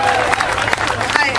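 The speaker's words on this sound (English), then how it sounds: "give a big round of applause to Angela Gardner of SF Pro Dog" A crowd at an outdoor protest against an off-leash dog proposal for beaches claps for a speaker, a brief loud burst of many hands with voices mixed in.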